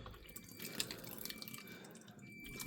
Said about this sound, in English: Oh, look at the amount of water dripping out of there.